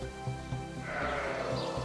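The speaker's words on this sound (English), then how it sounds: "The main breed is the Merino land sheep." Merino land sheep bleating in a short burst over a steady, even background, with a few low repeated calls near the start and a fuller, sustained bleat in the second half.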